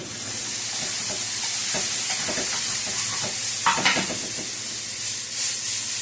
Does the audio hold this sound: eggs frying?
yes